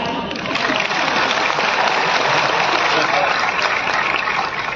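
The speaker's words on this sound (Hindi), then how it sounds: "अपनी बर्बादी के लिए ताली बजा रहे हो क्या?" An audience at a motivational speech applauds, a continuous, dense wash of many hands clapping, loud and steady throughout with no pauses.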